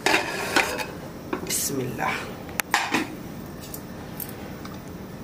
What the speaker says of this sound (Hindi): तो हम ये कुकर खोल लेते हैं।